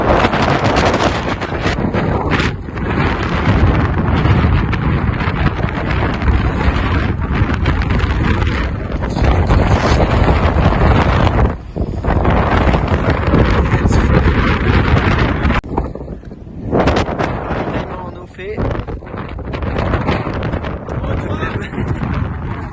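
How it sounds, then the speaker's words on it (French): Strong gusty wind by a lake in the Vercors roars and buffets a microphone nonstop, with brief lulls between blasts and faint splashing of water underneath. "Il rafale quasiment 5 km/h. On a du mal à tenir."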